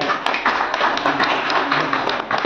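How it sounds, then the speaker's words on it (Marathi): An audience clapping at a temple celebration for Parashuram Jayanti, steady crowd applause of many hands, dense and continuous throughout. "सर्वांनी टाळ्या वाजवायच्या."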